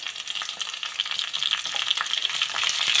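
Onions and masala fry in a pan for chicken kali mirch, giving a close, steady sizzle with crackling bursts as the mixture is stirred, growing slightly louder toward the end, with no talking.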